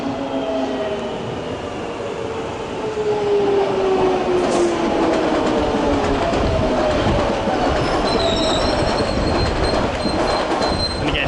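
Underground and Overground trains at West Hampstead keep up a continuous rumble of wheels on rails. Faint squeals and tones slide across it as a train moves steadily past, with no talking.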